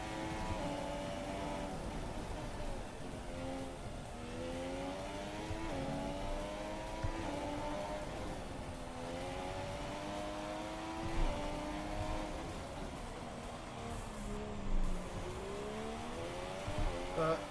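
An F1 2017 Formula 1 race car engine drones steadily, its pitch rising and falling with each gear change and corner in smooth repeated sweeps, loud and continuous throughout with no talk over it.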